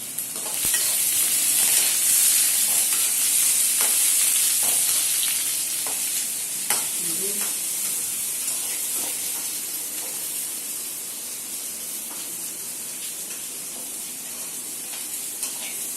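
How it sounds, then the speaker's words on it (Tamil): Onions sautéing in a hot pan for beans poriyal, a steady broadband sizzle with occasional stirring scrapes, loud and close at first and easing slightly as they cook, with no talking. "ஆனியனை போட்டு அதில் ஆட் பண்ணியாச்சு. நல்லா வதக்க போகிறோம்."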